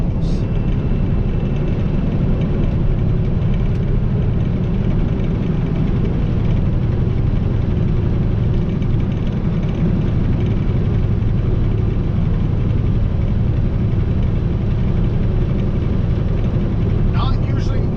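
A truck fitted with 3.55 rear ends drives at about 65 mph, its engine turning around 1400 RPM. The engine gives a steady, loud low rumble that carries unbroken throughout, with a faint squeak near the end.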